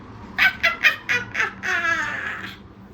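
A voice imitating a witch's cackle, five sharp rising bursts in quick succession followed by a drawn-out high cackling trail, close and clear against near silence.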